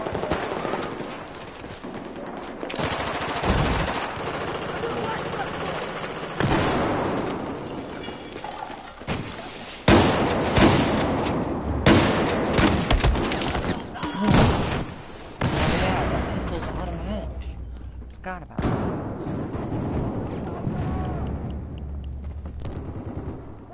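Shotgun blasts in the Battlefield 4 video game ring out as loud, sharp bursts scattered irregularly among other battle noise and game sounds, with a voice talking intermittently over the action.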